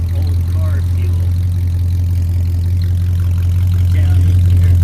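A 1970 Ford LTD engine idles with a low, even exhaust rumble, loud and close, holding steady throughout.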